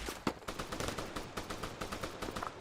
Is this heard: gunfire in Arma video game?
yes